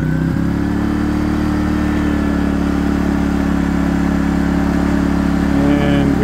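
Erayak 4500PD generator running steadily on propane, a constant loud mid-pitched engine drone with a mechanical hum that barely changes, close by.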